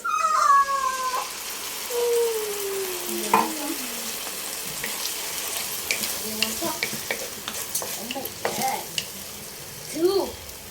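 Family-brand canned sardines fry in a home pan with onions, giving a steady close sizzle and crackle, with a few high, meow-like squeaks mixed in.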